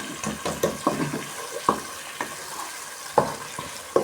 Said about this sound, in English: I'm now going to make sure that the salt is mixed well.